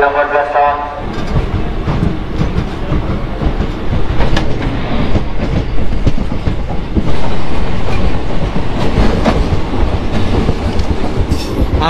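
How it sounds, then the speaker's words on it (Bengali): The Howrah–Digha Tamralipta Express rushes past at a station, a loud, close roar of wheels with rhythmic clickety-clack over rail joints that holds steady throughout. "এটা হাওড়া দীঘা তাম্রলিপ্ত এক্সপ্রেস বেরিয়ে যাচ্ছে।"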